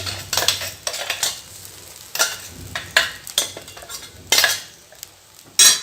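Homemade bread crumbs stirred in a hot pan on the stove, with a utensil clicking and scraping against the pan in irregular bursts separated by short quiet gaps, close and fairly loud.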